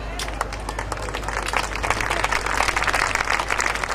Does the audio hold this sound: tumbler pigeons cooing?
no